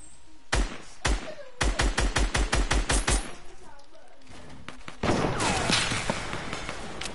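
Rapid bursts of video game gunfire shooting down player builds, loud close shots in quick rhythmic strings with brief pauses, then a burst of denser crashing noise near the end.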